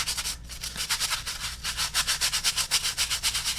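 A bristle brush scrubs a pair of Chaco sandals with quick, rhythmic back-and-forth strokes, close and steady, each pass giving a dry rasping scrape that speeds up toward the end.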